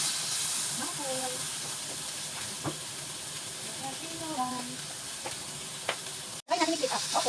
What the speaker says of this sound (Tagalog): fry yung mackerel